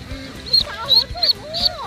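A female farm duck gives a short series of nasal quacks, close and fairly loud, with faint voices and background noise underneath.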